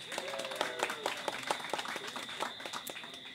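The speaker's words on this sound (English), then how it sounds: "So a round of applause for Cloudbreak." Scattered audience applause at an evening talk, a modest group clapping with uneven individual claps heard fairly close, steady throughout and without any talking over it.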